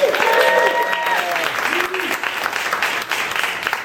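Comedy show audience applauding in a small venue, lively clapping right after a host's amplified voice at the start, continuing briskly with a few scattered shouts.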